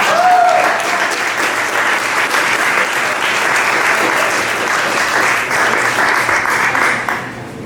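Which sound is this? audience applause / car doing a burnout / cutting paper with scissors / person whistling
audience applause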